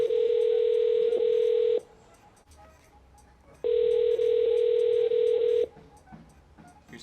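A telephone ringback tone sounds loud and close as an outgoing call goes unanswered, with two long steady tones separated by a quiet gap.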